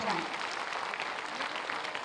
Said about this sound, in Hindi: आप सब जोरदार तालियों के साथ अपनी भावनाओं को मंच तक पहुंचाएं